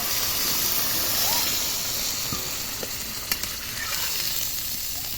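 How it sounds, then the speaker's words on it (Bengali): Water for the gravy is poured into a pan of browned duck meat, giving a steady, close sizzling hiss with faint bubbling. A soft voice is briefly audible in the background. "আমি এবার ঝোলের জলটা দিয়ে দিচ্ছি"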